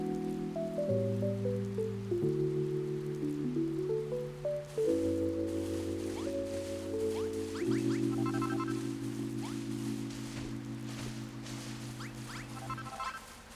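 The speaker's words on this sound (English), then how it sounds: "Okay, so it does rain in this game." Rain falling in the video game Dragon Quest Builders 2, a steady soft patter and hiss running throughout beneath sustained game music.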